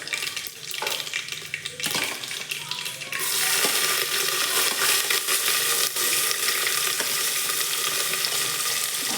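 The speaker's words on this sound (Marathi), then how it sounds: "कांदा आपल्याला चांगला लालसर होईपर्यंत थोडं परतायचं" Chopped onion frying in oil with cumin seeds and whole spices for masale bhat, a loud, close, continuous sizzle that swells after a few seconds, with stirring scrapes and no voices.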